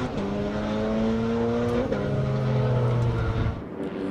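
An LFX Camaro-engine-swapped Mazda Miata race car roars past at speed on the Circuit of the Americas track, its steady engine note climbing, then dropping sharply as it passes, fading near the end.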